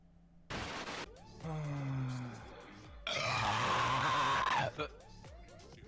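A loud, rasping burp comes through during a Twitch stream highlight and sits among mixed voices and background noise.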